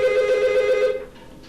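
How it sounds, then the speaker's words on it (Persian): A telephone rings in a home, one loud, steady electronic ring lasting about a second before it cuts off into quiet room noise. "که تلفن رو بردار"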